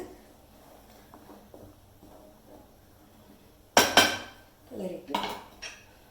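A utensil scrapes and knocks against a metal pressure cooker while spinach dal is being stirred, giving a few sharp clanks and scraping sounds after a quiet stretch.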